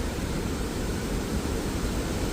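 Someshwar waterfall near Nashik in full flood, a dense, loud, unbroken roar of heavy water with no voices over it.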